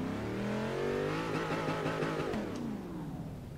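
A Dodge Charger engine in Forza Horizon 3 revs up and holds a loud, throaty roar with rising pitch, then eases off slightly, close and dominant.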